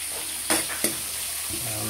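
Tilapia fries in a little oil with garlic and onion, giving a steady close hiss with a couple of sharp pops and the brief scrape of stirring.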